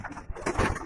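Red pigeons in a loft coo softly and close by, with several overlapping throaty calls packed into under a second.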